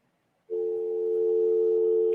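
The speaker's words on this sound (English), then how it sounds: "I get a dial tone." A steady dial tone from a VTech cordless phone on a SIP line begins after a short silence and holds for over a second and a half, clear and close.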